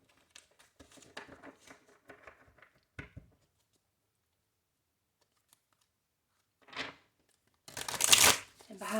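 Tarot cards shuffled repeatedly before a reading: after a person speaks, a brief riffle comes, then a longer, louder burst of close, crisp card shuffling at the end.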